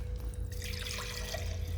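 Water poured slowly into a karwa pot during a Karwa Chauth puja, a soft continuous trickle and splash close by, with no one speaking.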